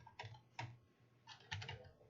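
Quiet typing on a computer keyboard while entering a short word into a coding sandbox, two brief bursts of key clicks separated by a pause, close and soft.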